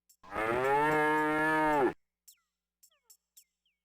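A cow in the King's Quest V adventure game gives one loud, sustained moo lasting nearly two seconds, followed by a few faint, brief game sound effects.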